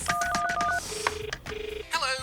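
Telephone keypad dialing a call, a rapid run of short DTMF beeps followed by two longer tones and a brief ringing burst at the end, clear and close.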